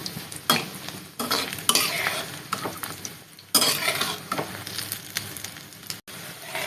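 Fish pakoras sizzling in hot oil in a pan after being turned, a steady frying hiss broken by loud scrapes and clinks of a utensil against the pan at irregular intervals.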